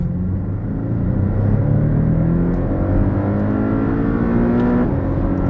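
Porsche Cayman engine revving hard, pitch climbing steadily toward its roughly 7,000 RPM limit, loud and close, then dropping briefly before rising again.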